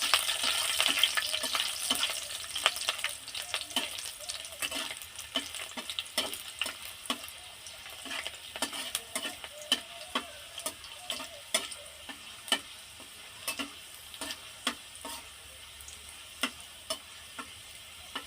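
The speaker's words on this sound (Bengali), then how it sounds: "রসুনগুলো আমি লম্বা লম্বা করে কেটে নিয়েছি, একটু লাল লাল করে ভেজে নেব।" Garlic cut into long slivers fries in a pan with a soft steady sizzle, while a spoon stirs it in a regular run of sharp ticks and scrapes, close and fairly quiet.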